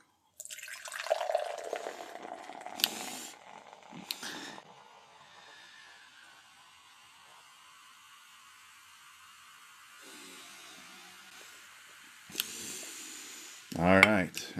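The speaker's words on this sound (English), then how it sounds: "for all you ASMR fans, here is the pour." Dr Pepper Strawberries and Cream soda poured from a can into a glass gives a close, quiet fizzing splash, with soft crackling carbonation afterward and a few louder handling knocks and clinks.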